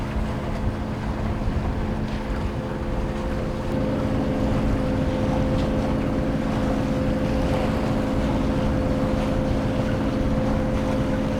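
Motorboat engine droning steadily while motoring hard through a sailing race course on open water, a constant loud low rumble with wind and water wash over it throughout.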